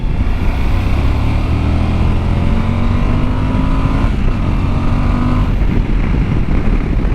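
A 2021 Suzuki V-Strom 1050XT adventure motorcycle being ridden, its engine a steady loud drone with rising tones mixed with strong wind rush, continuous for the whole stretch.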